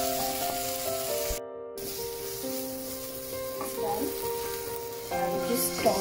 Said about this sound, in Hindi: just toss in the chicken strips, mix it properly